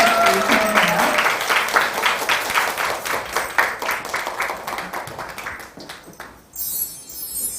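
Audience applause after a music performance at an academic society's founding meeting, loud clapping that gradually thins into scattered claps and dies away.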